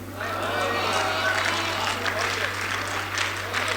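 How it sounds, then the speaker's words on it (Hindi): Subdued audience applause at a Hindi-Urdu mushaira and kavi sammelan poetry gathering in Hyderabad: a soft, even wash of distant clapping over a steady electrical hum from the hall's sound system. "तालियां बहुत कमजोर थी आपकी, इतने कमजोर तालियों में मेरी बात बनेगी नहीं।"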